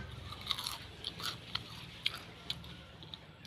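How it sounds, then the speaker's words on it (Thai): Crispy twice-fried food bitten and chewed close to the mouth, a series of sharp crunches at irregular intervals over about three seconds, fairly quiet overall. "รอบนี้กรอบมาก อร่อยมาก ฟังเสียงนะคะ"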